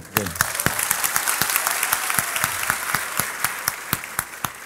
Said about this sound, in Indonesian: Tepuk tangan sekali lagi untuk Mbak Tejo.